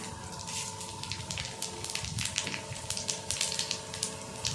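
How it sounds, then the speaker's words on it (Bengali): Bay leaves, cumin and five-spice sputter in hot oil while a jackfruit curry is made, producing a close, continuous crackling sizzle with dense sharp pops over a faint steady hum; no voices. "হালকা এটাকে ভেজে নেব ফোড়নের গন্ধটা চলে আসবে"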